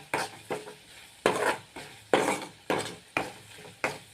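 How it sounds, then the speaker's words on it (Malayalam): A spoon stirs chili powder into a mango pickle mixture in a pan, giving about seven steady, rhythmic scraping strokes that are close and fairly loud, with no talking. "അതൊന്ന് നല്ലവണ്ണം ഇതിൽ യോജിപ്പിക്കുക."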